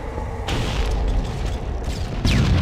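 Grenade blasts in a capture-the-flag shooter video game, set off for a grenade jump: a sudden booming burst followed by sustained rumbling noise, then a second sharp explosion near the end, loud and close.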